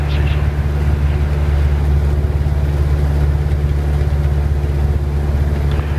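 Robin DR400 160 hp light aircraft engine in flight near Nevers, a steady loud low drone with rhythmic propeller pulsing filling the cabin, with faint speech-like sounds over it.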